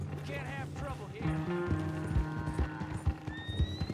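A horse whinnies while hooves clip-clop nearby in a few quick steps in Red Dead Redemption 2, with a voice speaking over it and some game-like background tones.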